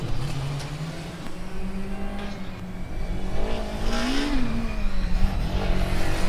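Formula Student race car powering through an autocross corner, its engine note droning steadily with a rising pitch swing mid-run, heard from trackside.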